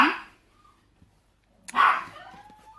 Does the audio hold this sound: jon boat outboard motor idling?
no